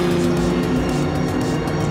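Race car engines drone steadily in Gran Turismo 7 during a European championship race, a loud, continuous hum of several cars running close together without pause.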